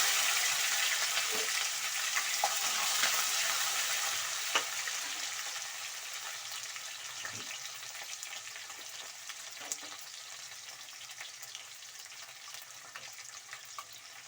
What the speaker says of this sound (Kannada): ಹಸಿಮೆಣಸಿನ್ಕಾಯಿ ಮೆಣಸಿನಕಾಯಿ ಸ್ವಲ್ಪ ಫ್ರೈ ಆಗಿದೆ